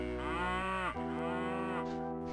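A cow NPC in a Bethesda role-playing game lets out two long, drawn-out moos, loud and close, with rich sustained tones and no talk over them.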